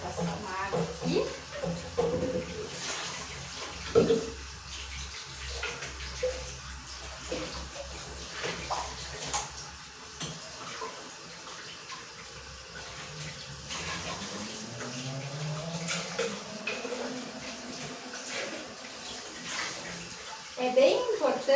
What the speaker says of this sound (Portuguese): Vou passar uma água aqui.